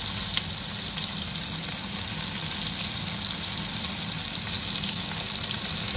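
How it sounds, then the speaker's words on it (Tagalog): Ginger, onion and garlic sautéing in a pan for chicken tinola, a steady close sizzle with faint stirring scrapes throughout and no talking. "kinisa ko ng ating luya, sibuyas at saka bawang"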